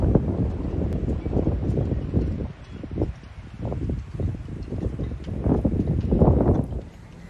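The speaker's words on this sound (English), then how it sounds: "It's another super windy day today" Strong gusting wind buffets a microphone at a boatyard, a loud broadband roar that rises and falls in surges throughout, with a brief lull midway before picking back up.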